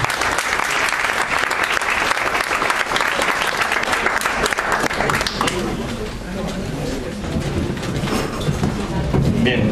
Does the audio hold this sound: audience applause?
yes